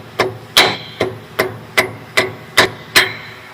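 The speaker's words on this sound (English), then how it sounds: "As you can see, I got a carpenter's hammer." Carpenter's hammer tapping down tabs while fitting tie rods on a 2000 4Runner, eight sharp metallic knocks in a steady, evenly spaced rhythm, loud and close with nothing else heard.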